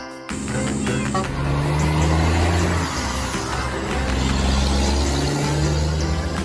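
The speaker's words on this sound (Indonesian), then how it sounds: "Ini ada truk towing, truk membawa kendaraan." A tow truck carrying a vehicle rumbles past nearby, its engine producing a loud, steady low drone with slight rises in revving, heard alone without talk.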